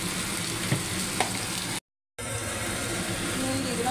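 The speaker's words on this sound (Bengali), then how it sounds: "আলুগুলো আমি এক এক করে ভেজে নেব ভালো করে।" Potatoes frying in oil in a pan, a steady broadband sizzle running throughout with a couple of soft stirring knocks and a brief dropout partway.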